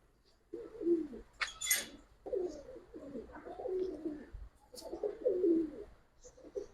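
Giribaz pigeons coo in repeated low, throaty phrases close by, with a brief flutter or rustle between calls and no voices.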